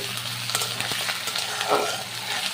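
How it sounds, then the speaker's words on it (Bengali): Onion with garlic and ginger paste sautéing in a pan, a steady close sizzle with scraping stirring strokes running throughout, no talking. "এখন দেব রসুন বাটা আদা বাটা আবারও এক মিনিট মতো ভালো করে কষিয়ে নিতে হবে"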